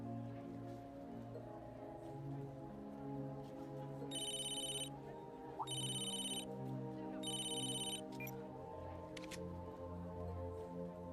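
A telephone rings in the game Tokyo Xanadu, three evenly spaced electronic bursts of trilling ring over a soft, sustained musical background, followed by a couple of brief clicks.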